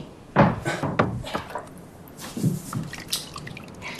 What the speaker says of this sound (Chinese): 妈，我去给你倒水啊